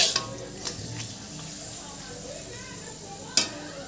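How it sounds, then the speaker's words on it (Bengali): Papads (poppadoms) frying in a pan at home: a low, steady sizzle with a few sharp utensil clacks, one at the start and another near the end. "দেখো আমি এখন পাঁপড়গুলো ভেজে নিচ্ছি"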